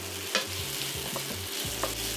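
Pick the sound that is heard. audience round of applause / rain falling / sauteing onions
sauteing onions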